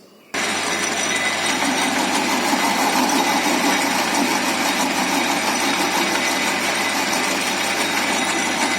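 Metal lathe taper turning a conical shape on a workpiece, a steady loud mechanical whir and hum that starts abruptly and runs unbroken, with no talk.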